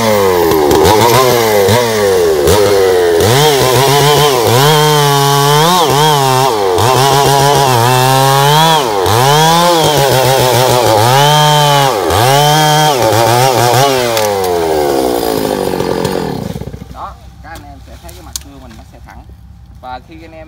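A loud chainsaw saws into a large log, its engine rising and falling in repeated surges as the bar bites and eases, then cuts out near the end, leaving quiet.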